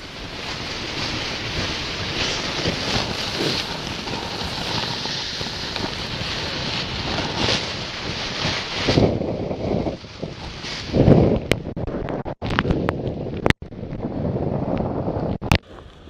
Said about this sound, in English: The problem is that it's so windy!